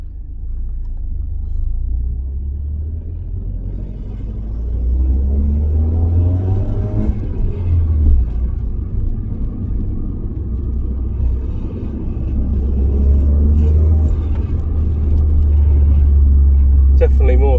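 Citroen DS3 with a Cobra decat exhaust driving, a loud, steady low rumble that swells as it pulls away, with voices talking over it.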